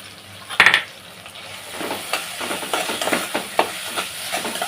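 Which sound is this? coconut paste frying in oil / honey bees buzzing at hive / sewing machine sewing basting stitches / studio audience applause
coconut paste frying in oil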